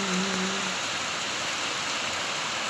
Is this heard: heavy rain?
yes